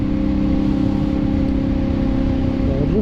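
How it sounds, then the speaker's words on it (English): Steady loud engine drone and rushing wind noise inside a motorcycle helmet on a KLR motorcycle cruising at about 55 to 60 mph, with a constant low hum and no pauses. "how much it drowns out the wind noise and the KLR noise"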